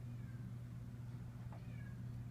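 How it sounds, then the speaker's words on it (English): A cat meows faintly from inside a closed room, two or three soft, muffled cries buried beneath the loud, steady hum of a running 1970s TG&Y Golden T box fan. "I had to close my cat up because he kept bugging me."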